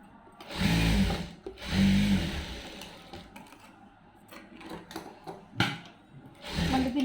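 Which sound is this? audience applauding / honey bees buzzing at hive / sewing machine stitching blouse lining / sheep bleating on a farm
sewing machine stitching blouse lining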